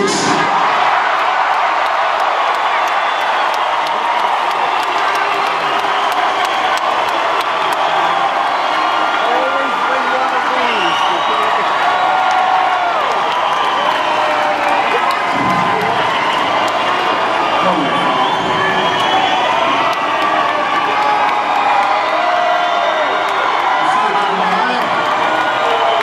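A huge concert crowd screams and cheers for a band member at an outdoor amphitheater during a show, a dense, loud, continuous roar with whoops and shouts sustained for the whole stretch.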